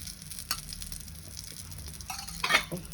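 Pesarattu green gram dosa sizzling in oil on a pan, a steady soft crackle with faint stirring or scraping clicks near the end, no talking.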